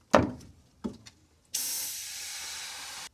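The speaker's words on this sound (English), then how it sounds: "Good thing about this can is that you can actually spray while it's upside down" Aerosol air conditioner coil cleaner sprays from a can held upside down onto the unit's fins: a few sharp taps, then a steady, loud hiss that lasts about a second and a half before cutting off.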